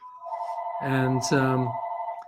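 A telephone rings with a steady electronic tone throughout, loud and continuous, while a voice talks over the middle stretch during an interview.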